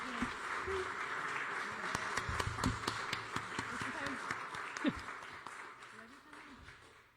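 A crowd at a poetry event gives a round of applause, a steady spatter of clapping that swells slightly and then tapers off, with a voice speaking over it.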